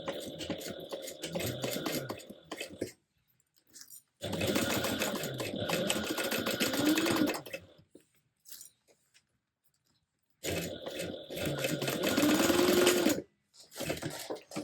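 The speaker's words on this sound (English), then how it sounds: "Stitch that down at a 1/4 inch seam allowance." A sewing machine stitches a quarter-inch seam in three long runs of rapid, steady mechanical chatter, separated by silent pauses with an occasional small click.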